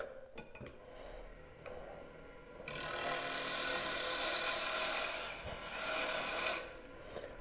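A mini birdhouse ornament being turned on a wood lathe with a bowl or spindle gouge or a carbide tool, giving a soft scraping, hissing cut that grows louder midway and then eases off over a low motor hum.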